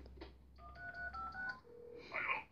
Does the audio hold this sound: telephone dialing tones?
yes